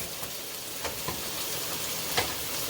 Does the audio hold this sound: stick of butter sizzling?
yes